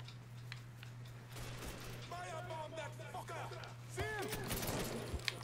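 Bursts of gunfire from the video game Mafia 3 crackle amid game sound effects and a steady electrical hum, fairly faint, with voices speaking over them.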